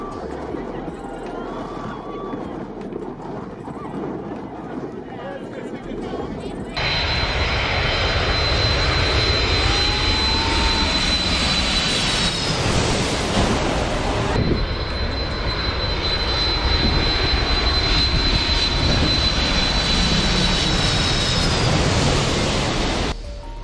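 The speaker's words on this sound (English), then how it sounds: "watching a plane land at a really close distance" A loud, roaring jet engine swells as an airplane passes low overhead while landing near a beach, its whine and rumble dominating, with wind and surf-like noise beneath.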